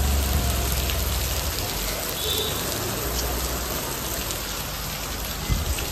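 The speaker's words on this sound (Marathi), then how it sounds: "इकडे बघा पावसाने चांगली साजेरी लावली आहे, दमदार एकदम चांगल्या प्रकारे एकदम पाऊस जोरात आले एकदम." Heavy rain pours down steadily and close by, a dense, unbroken hiss of drops striking surfaces with no voices over it.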